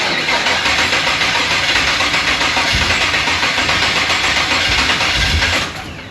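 Holden VU car engine, unused for years, runs loud and close with a dense, rough mechanical roar that holds steady before dropping away near the end.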